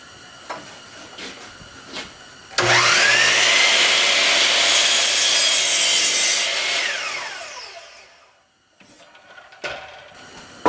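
A power saw rough cutting wooden table legs: a loud, sustained cutting roar of about four seconds rises abruptly, fades as the cut finishes, and is followed by a few short knocks and handling sounds.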